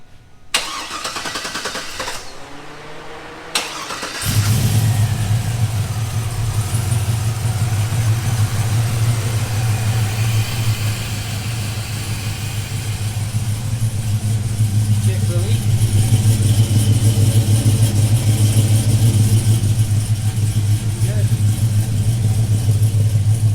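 A race car engine cranks briefly, catches and settles into a loud, deep, steady idle that carries on throughout, close to the listener.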